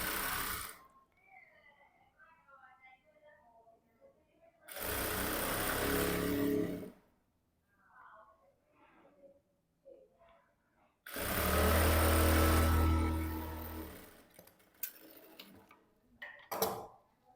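A sewing machine stitches a blouse in two long, loud runs of steady whirring, separated by quieter stretches with handling noises and soft tapping.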